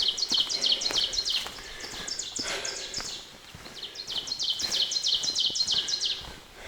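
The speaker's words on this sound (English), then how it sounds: "we got a oven bird" An ovenbird singing in the woods, repeated bright two-note phrases building in series, clear and moderately near against a quiet forest background with faint insects.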